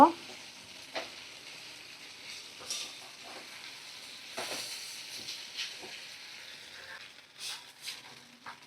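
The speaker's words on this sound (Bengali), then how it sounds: "তো দেখো পরিমাণ মতো একটু গরম জল আমি দিয়ে দিলাম, আর একটু নাড়াচাড়া করে" Goat liver chachhari sizzles and hisses in the pan as hot water is poured in and stirred, with soft intermittent frying crackles and stirring scrapes, fairly quiet and without talk.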